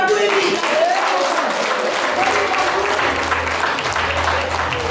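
A wedding crowd applauds a poet's recital, and the clapping holds as a dense, continuous patter for the whole five seconds. A voice carries faintly over the noise.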